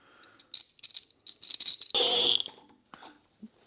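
Nuts from a hardware store are spun onto bolt studs of a 1994 Ford F150. The clip has a short cluster of close metallic clicks and rattles, then a brief rasping ratchet burst, with no talking.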